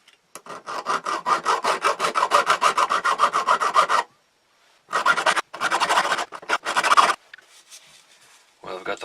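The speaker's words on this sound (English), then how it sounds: "just going to do a teeny bit of filing on here just to kind of get these a little bit shorter" Hand file worked on a knife bolster, loud close rhythmic rasping strokes in quick steady runs, broken by brief pauses, with a little talking between the bursts.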